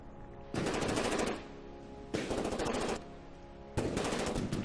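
A warship in the game From the Depths fires fast, accurate shell bombardments, coming as three sustained bursts of rapid gunfire roughly a second long each, evenly spaced with quieter gaps between them.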